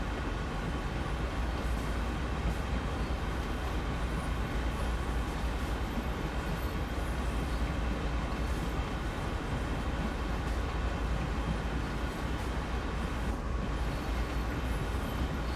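A train running in the Train Sim World 2 video game, a steady low rumble and rolling hum of wheels on track, continuous and moderately quiet with no talk over it.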